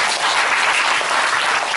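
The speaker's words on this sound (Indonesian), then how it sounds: "Yang setuju kasih tepuk tangan buat." A church congregation applauds in a dense, steady wash of clapping that fills the whole moment at close range.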